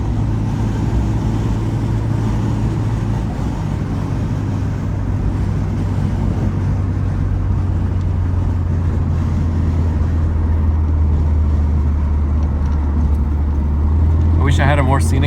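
A 1971 Volvo 1800E with fuel injection drives a plain commute home, its steady engine drone and low road rumble continuous and loud throughout, with a voice talking over it.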